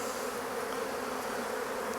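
Honeybees pouring out of an opened hive during a spring inspection, a dense steady buzzing hum filling the air close up without a break.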